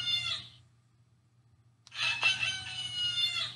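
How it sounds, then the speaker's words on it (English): Toy rooster crowing a cock-a-doodle-doo, a brief call that cuts off, then a longer, louder crow after a pause, with a faint steady hum underneath. "Ruffle the rooster's feathers to hear him. Cock-a-doodle-doo."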